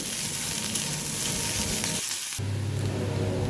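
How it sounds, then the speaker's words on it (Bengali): Steady, close sizzling of chopped onions frying in a hot pan. It drops out briefly partway through, then returns louder and fuller. "এরপর এখানে আমি অ্যাড করে দিচ্ছি পেঁয়াজ কুচি আর এটাকেও ভালোভাবে ভেজে নিতে হবে।"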